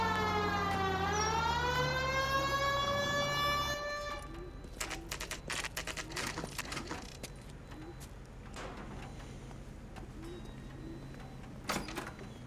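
A wailing police siren in the video game L.A. Noire sweeps up and down for about four seconds, then cuts off, leaving scattered clicks, thumps and low background noise.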